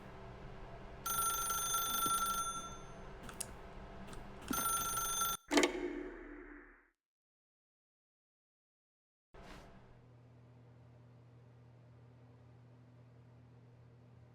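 A telephone ringing in the video game The Stanley Parable, two bursts of bright electronic ringing followed by a sharp click and silence, then a low steady hum.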